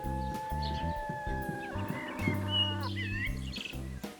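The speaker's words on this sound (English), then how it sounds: "The chicks are still cheeping" Six-week-old chicks give faint, scattered high cheeps, clustered mostly in the middle of the short stretch, over steady tonal background sound.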